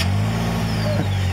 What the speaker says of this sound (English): push this button here to start the engine up